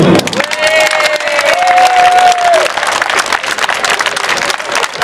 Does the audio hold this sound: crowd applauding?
yes